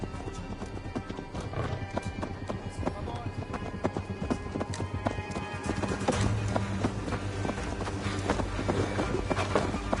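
Horse hooves clip-clop in a steady, brisk rhythm throughout in the video game Assassin's Creed Mirage, close and continuous over a busy layer of background sound.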